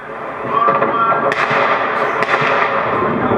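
Several sharp, loud bangs crack out in quick succession amid a noisy, busy background during the Maidan protests, like gunfire at close to mid range.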